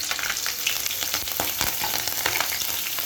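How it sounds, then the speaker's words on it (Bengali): Green chillies hit hot oil in a wok and fry with a loud, dense, crackling sizzle, steady throughout, with the occasional stir; no voices. "তেলটা গরম হয়ে গেছে, আগে লঙ্কাগুলো দিয়ে দিব"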